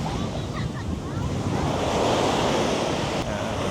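Steady wind blows at Ilig-Iligan Beach on Boracay, buffeting the microphone over a constant wash of surf, loud and continuous with no voices.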